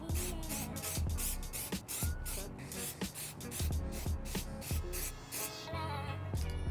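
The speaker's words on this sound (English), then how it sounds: "I'm gonna go outside and spray some on the sneaker" Reshoevn8r water and stain repellent sprayed outdoors onto a black-toe 2025 Jordan sneaker in a series of short hissing bursts, close and steady, with no talking.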